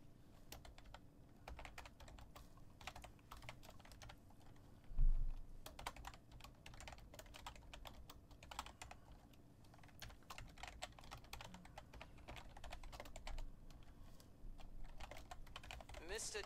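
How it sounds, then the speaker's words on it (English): Steady typing on a computer keyboard, a continuous patter of soft, quick key clicks close by, with a brief louder bump partway through and faint background hum. "So we're going to get this typed here."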